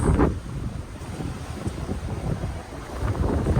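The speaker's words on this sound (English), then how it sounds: "This is so windy right here." Strong wind buffets the microphone by the sea in Hong Kong, a continuous rushing roar with surging gusts, waves and surf washing underneath throughout.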